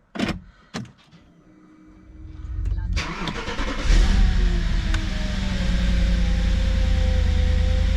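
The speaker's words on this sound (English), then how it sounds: "take the keys and start the car, and let's see if it does it even start and what it does" A cold Audi A6 V8 FSI, about 300,000 on the clock, cranks briefly and fires up at once, then settles into a steady, loud idle after a few clicks and thumps.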